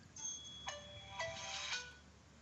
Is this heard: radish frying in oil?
no